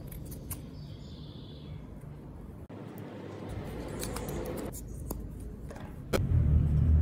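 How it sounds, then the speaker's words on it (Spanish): Scissors cutting out a paper template for a wooden knife grip, with quiet, close snips and soft rustling of paper, a few sharper clicks and a louder handling noise at the end. "vamos a recortar el molde"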